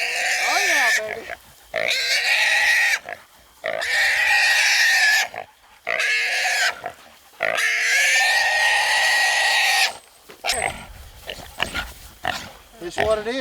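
A large hog weighing around 350 to 400 pounds grunts and squeals loudly in repeated bursts close by, with short gaps between calls, while people talk and move around it.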